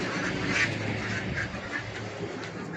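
Ducks on a farm, a dense flock of quacking and honking calls blending into a continuous noisy chorus at moderate distance.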